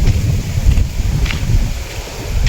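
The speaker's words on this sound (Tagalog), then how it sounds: "Dito po yung mahangin." Wind buffets the microphone beside a rice field, a steady low rumble with gusty swells that fills the whole stretch without pause.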